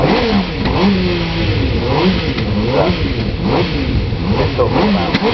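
Aston Martin Mirage AML1 race car engine at a hillclimb festival, revving up and down in repeated rising and falling sweeps, loud and close over crowd noise.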